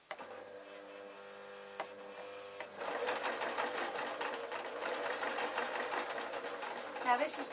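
A sewing machine stitches kilt pleats through waistband fabric, first with a slower, lighter whir, then a louder, fast rattling run of needle strokes that continues to the end, with a brief clunk near the close.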